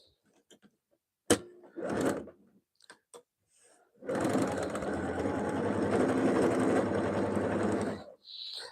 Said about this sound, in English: we're going to sew on the bottom of the lace